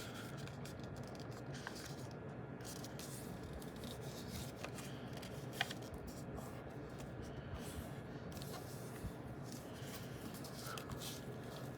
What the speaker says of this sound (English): first you're going to want to fold this point to the top.